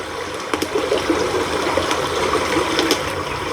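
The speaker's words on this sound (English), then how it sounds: "We are sitting in the middle of an island, surrounded by water, in the middle of a large river." Water of a large river flows around an island, a continuous, fairly loud trickling rush with small splashes, no voices.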